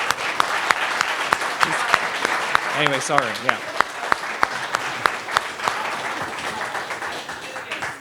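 Audience clapping fills the room at a steady pace while a person speaks briefly over it, a few sharp claps popping out near the front.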